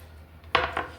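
A knife chopping fresh coriander leaves on a board, three quick close taps in a short rhythmic run with no talking.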